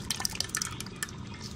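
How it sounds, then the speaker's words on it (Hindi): Yogurt going into frying beef salan in a pot, a close, crackling sizzle with quick wet spatters and drips throughout the short moment. "अब हम इसमें दही ऐड करेंगे।"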